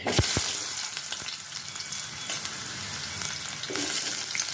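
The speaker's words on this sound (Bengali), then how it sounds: "তেল গরম হয়ে গেছে তেলে আমি দিয়ে দেবো এবার কুমড়োগুলো" Pumpkin pieces fry in hot mustard oil in a pan, giving a steady, close sizzle with bursts of crackle and a few stirring knocks, and no talking.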